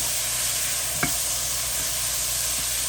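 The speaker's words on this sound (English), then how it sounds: "Keep it stirred because we want them to saute." Steady sizzling and frying as mushrooms sauté in a hot pan over high heat, with a brief scrape of stirring partway through.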